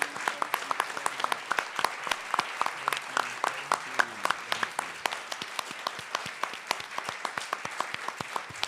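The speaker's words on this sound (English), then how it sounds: "can you all please do a big round of applause for all 4 of these candidates" An audience at a Minneapolis mayoral candidates forum at Becketwood Cooperative applauds for four candidates, a steady round of many hands clapping at moderate distance, sustained throughout with a few sharper claps standing out.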